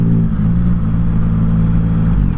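Motorbikes fitted with loud aftermarket exhausts rumble close and heavy, a deep sustained engine drone that holds steady through the moment without talk.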